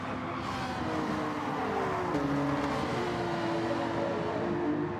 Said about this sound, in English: Those two cars behind me are battling like crazy.